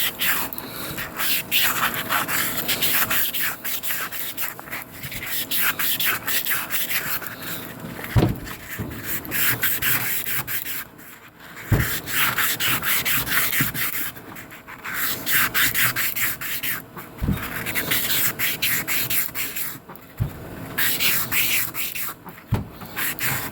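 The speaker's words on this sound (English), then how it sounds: "This is also 320 grit sandpaper." Steady hand sanding with 320 grit sandpaper on an engine cylinder bore, twisting to cut crosshatch scratches under heavy pressure. The rubbing is close and continuous, broken by a few brief pauses and knocks.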